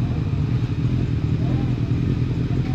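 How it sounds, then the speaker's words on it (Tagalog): Several motorcycles idle and rumble steadily up close at a breakfast-ride meetup in Tanay, Rizal, a continuous low engine drone with light clatter and people talking over it. "dami na yung mga motor"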